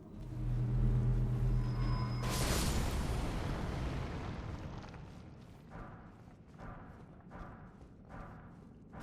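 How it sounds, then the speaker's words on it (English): Deep explosive blasts from orb traps in the video game Elden Ring: one sharp, loud burst, then a heavy rolling rumble that fades into a series of softer, evenly spaced thumps. "there's more exploding orb things down here"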